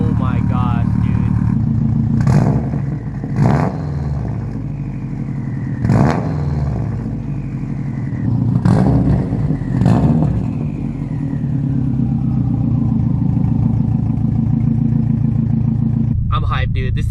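Subaru WRX STI with a loud, raspy resonator-delete exhaust idling with a rumbling burble and blipped several times into sharp revs that fall back, recorded close by, ending in a brief clatter.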